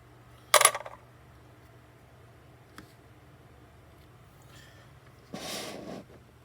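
A bank-wrapped roll of 1959 Type B reverse quarters is cracked open. One sharp snap comes first, then a quiet pause and a brief papery rustle near the end, all close and fairly faint.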